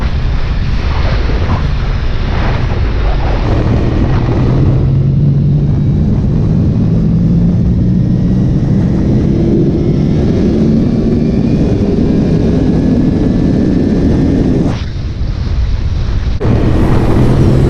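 Yamaha R1 motorcycle engine at full power accelerating hard to 130: a loud, continuous roar with rising engine tones and heavy wind buffeting, briefly dropping around a gear change before surging again, with no talking.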